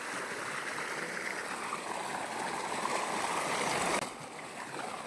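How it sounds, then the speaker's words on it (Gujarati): Water gushing steadily from the outlet of a running motor-driven pump at a village home, a loud continuous splashing rush that drops slightly in level near the end. "મોટર શરૂ છે ધોધમાર."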